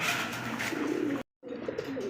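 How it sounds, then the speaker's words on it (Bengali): A pair of uncommon Chinese pigeons coo close by, two soft throaty bursts separated by a brief silence. "আনকমন এক জোড়া কবুতর একদমই আনকমন চাইনিজ"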